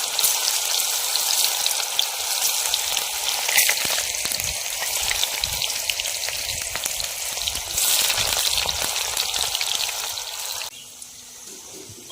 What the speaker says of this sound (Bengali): এখানে বেগুন ভাজা চলছে